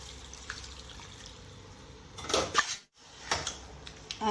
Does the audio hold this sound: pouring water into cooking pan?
yes